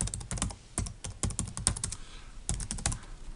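A computer keyboard clatters as a mobile number is typed, with quick bursts of close, crisp keystrokes separated by short pauses and no talking.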